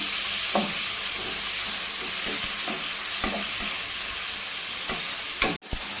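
Tomatoes frying in a pan for a home-style chicken curry, stirred steadily so they don't stick: a continuous close sizzle broken by repeated soft scraping strokes of a spoon, ending with a brief knock.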